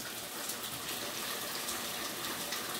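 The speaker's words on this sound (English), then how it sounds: "Now, as you can hear," Heavy rain pours down steadily around a house with a leaking roof at midnight, a dense, constant rushing wash with no break, heard close and alone with no voices.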